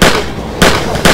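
Gunshots fired from a car, three loud, close, sharp bangs about half a second apart, each followed by a short ringing decay.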